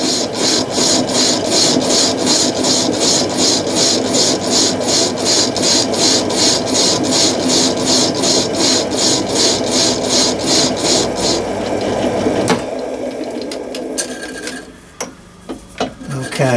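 Metal being turned on a lathe for a scratch-built Gauge 1 live steam locomotive part that runs slightly out of true. A steady, loud rhythmic scraping cut continues for about twelve seconds, then gives way to quieter clattering and knocks.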